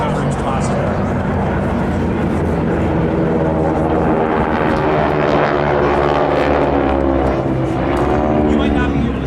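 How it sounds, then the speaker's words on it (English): Aerobatic planes with 600 hp nine-cylinder Pratt & Whitney radial engines drone loudly and steadily at an air show, the propeller roar rising and falling as they pass, with a voice talking over them throughout. "they use a 600 horsepower, 9-cylinder Pratt & Whitney radial engine"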